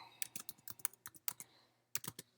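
Rapid, quiet clicks of typing on a computer keyboard, an uneven run of light keystrokes close by with a brief pause before a final short burst.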